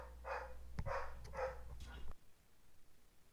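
A dog barks in a few short, mid-loud bursts over about two seconds. The barking stops abruptly and faint room quiet follows.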